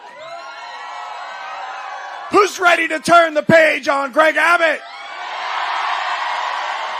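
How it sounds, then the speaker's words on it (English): A rally crowd in Dallas cheers and whoops in loud bursts as someone speaks over a microphone. Shouts and applause swell between his short phrases, then a steady roar of cheering carries on after he stops. "What a crowd tonight."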